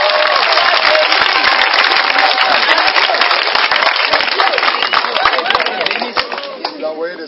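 Audience applause with cheering voices, a loud dense crowd clapping steadily and fading slightly toward the end, with shouts mixed in.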